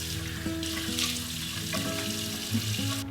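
Tap water runs steadily into a sink while a face is dampened to remove makeup, with faint clinks and tonal kitchen sounds underneath, close and moderately quiet.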